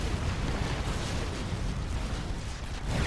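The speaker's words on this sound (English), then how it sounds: "And there's a comm bomb." A commander unit's comm bomb detonates in Supreme Commander 2, a dense, sustained rumbling blast that fills the whole clip with roaring low-end noise and no clear break.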